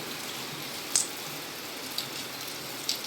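Rain falls in drops onto a road outdoors, a faint steady patter with a few sharper drip ticks spaced about a second apart.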